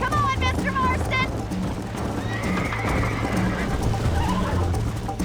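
Horses in the Red Dead Redemption video game whinny sharply near the start, then hooves clip-clop steadily through the rest under a continuous game soundscape with music and faint voices.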